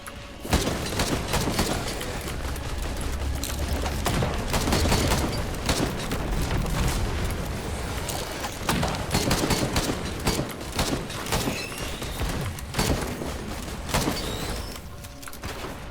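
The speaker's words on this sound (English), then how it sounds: "this is fucking perfect shooting, Tix." Heavy gunfire in the video game Risk of Rain 2, a loud sustained barrage of rapid overlapping shots and booms filling the whole stretch, with no voices over it.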